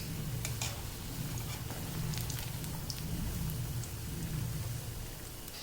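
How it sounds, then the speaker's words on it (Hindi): Corn pakoras fry in hot oil over medium heat, a steady close sizzle and crackle with scattered sharp pops, carrying on evenly throughout with no voices. "इन्हें मीडियम आंच पे ही फ्राई करना है।"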